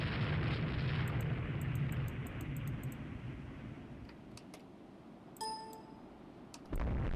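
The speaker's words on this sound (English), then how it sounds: "cruiser blew up" A cruiser blows up in a naval battle in the game Rule the Waves 2: a sustained low rumbling roar of battle fades, then short metallic dings and a sharp burst ring out, followed by a louder low boom at the end.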